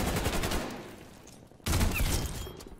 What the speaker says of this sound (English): Look how delayed my shots are.